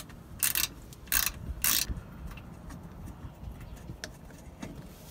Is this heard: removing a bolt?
yes